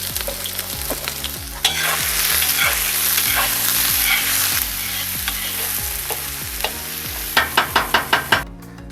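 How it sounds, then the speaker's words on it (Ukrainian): Onion sizzles loudly in hot sunflower oil while a spoon stirs and scrapes a cauldron-style pot, ending with a quick series of sharp taps. "засипаю цибульку. Починаємо смажити"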